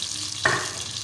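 A jug of water hits browning tadka dal in a hot pan, bursting into a sudden loud hiss around the half-second mark that settles into a steady, fainter sizzle.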